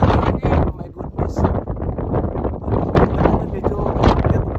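Strong wind blasts across an open mountain plateau, roaring and buffeting the microphone in continuous gusts while a person talks over it.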